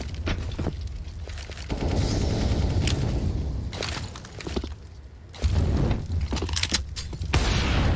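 A single sniper rifle shot from an AWP in a professional Counter-Strike match, ringing out amid continuous game noise, footsteps and distant gunfire, with loud low rumble throughout.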